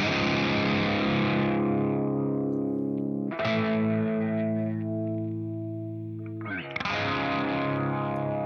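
Electric guitar through Bias Amp 2 with a Tube Screamer overdrive, played as three loud sustained distorted chords that ring out and decay, with effects-laden tone and some hiss, no talking.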